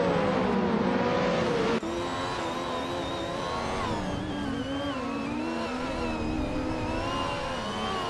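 Cars racing in a video game, including a Ferrari F1 87/88C, with a loud, steady engine whine rising and falling through gear changes, no voices.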